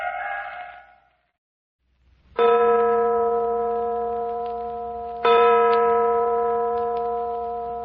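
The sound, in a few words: church bell ringing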